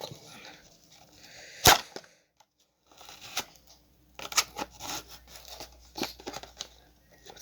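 Hot Wheels toy car packaging being opened, with sharp plastic crinkles and a loud snap near the start, then a pause and a run of tearing and cracking blister-pack sounds, close and fairly faint.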